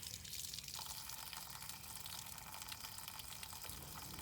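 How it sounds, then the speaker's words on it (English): Water draining from a pool heater with its plugs removed during winterizing of a Crestwood pool, a steady faint gushing and splashing flow that continues without pause. "If you have a heater, make sure you remove any plugs to drain the heater."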